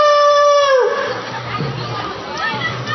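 A person imitates a dog at a Bahag Bihu function in Bamundi, with a drawn-out howling cry that fades into crowd chatter and children's voices.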